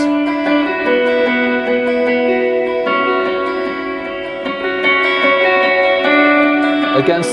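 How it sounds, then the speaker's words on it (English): Electric guitar chords ring out with a repeating echo, notes trailing and overlapping in a steady, sustained wash of sound, loud and close. "then we go to the echo sound, which is the verse"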